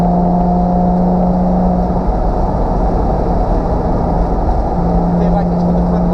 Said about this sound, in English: this sounds an awful lot faster than it actually is, thanks to that, well, straight through exhaust.